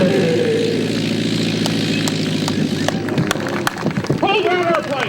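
A propeller airplane lands at an air show, its engine droning and sputtering close by. A voice talks over the engine noise and there are sharp clattering bursts near the end.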